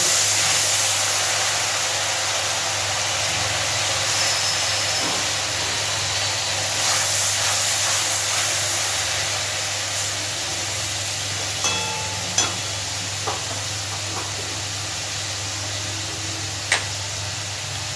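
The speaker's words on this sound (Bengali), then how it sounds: "গ্যাসের ফ্লেমটাকে একদম কমিয়ে দিয়ে মশলাটা খুব ভালোভাবে একটু কষিয়ে" Spice paste frying in oil over a low gas flame, a steady soft hiss and sizzle close by with a few small pops and clicks toward the end.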